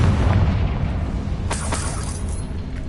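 Fiery Confringo spell blast in the Hogwarts Legacy video game, a loud rumbling explosion with a couple of sharp bursts partway through and a sustained low roar.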